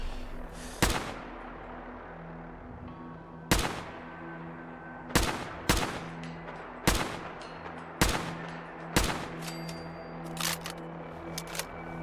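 Gunfire in Fallout 4: about seven sharp, separate shots spaced one to two seconds apart, ringing against a steady low game hum, with a few quicker lighter cracks near the end and no talking.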